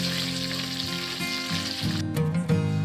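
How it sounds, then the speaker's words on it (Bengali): Sliced onion, green chillies and bay leaves fry in oil for a Bengali fish-head muri ghanto, giving a loud, dense, continuous sizzle up close that swells with a few bursts of stirring near the end. "পেঁয়াজ লঙ্কা প্রথমে হালকা করে ভেজে নেবে"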